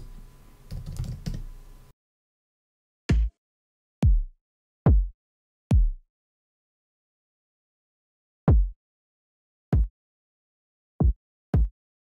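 A brief burst of noise, then a series of punchy, isolated kick drum hits, each a deep thump with a quick decay, spaced by silences.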